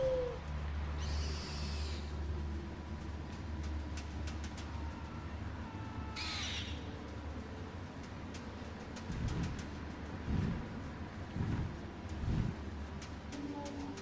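Owl hoots from the game Far Cry Primal, two bright hooting calls near the start and middle over a steady low rumble of game ambience, with a few duller thumps toward the end.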